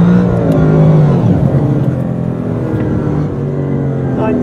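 Mercedes-Benz car accelerating hard at partial throttle at Berlin Tempelhof, a loud close engine note climbing steadily in pitch, with people talking over it.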